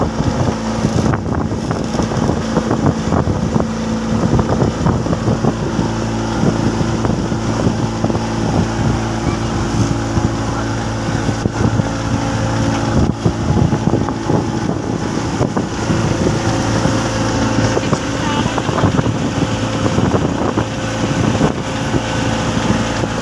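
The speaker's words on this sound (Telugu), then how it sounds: "ఈ మోటార్ వల్లనే ఈ బోట్ అనేది ఇంత వేగంగా వెళ్తుంది" A motorboat engine drives a boat along at speed, a steady loud drone with constant low hum, wind buffeting the microphone throughout and water rushing beneath, with no let-up for the whole stretch.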